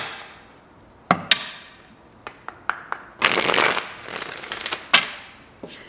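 Tarot cards are riffled and shuffled close by: a few sharp taps, then a longer burst of rapid flapping, followed by more scattered clicks.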